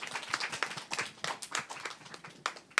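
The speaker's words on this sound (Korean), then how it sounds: "박수." A small group claps in a church hall, quiet and somewhat distant, with an uneven patter of hands continuing for a few seconds.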